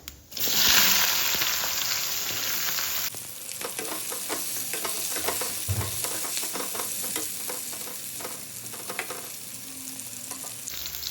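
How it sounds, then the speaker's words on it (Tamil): Fennel seeds and shallots hit hot oil for a quick chicken dish, first with a loud, bright burst of sizzling, then a steadier crackle with repeated stirring clatter close by and no talking. "இப்போ இந்த எண்ணெயில் கொஞ்சமாக சோம்பு சேர்த்துக்கிறேன் சின்ன வெங்காயம் சேர்த்துக்கிறேன்"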